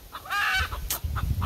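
Chickens cluck and squawk up close while their wing flight feathers are being clipped, with a sustained harsh squawk followed by shorter clucks and rustling over low background noise.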